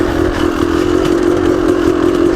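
A 1998 Yamaha YZ250 two-stroke motorcycle engine runs steadily and loudly up close, with a raspy, buzzing drone and rapid firing clatter and no voices.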